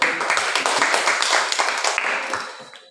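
A class of students clapping their hands together, a dense flurry of claps that stays steady and fairly close before tapering off near the end.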